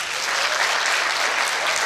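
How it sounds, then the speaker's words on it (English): Loud, dense applause from an audience at a law school homecoming and anniversary celebration, a brief uninterrupted burst of many hands clapping together. "Can you clap for him?"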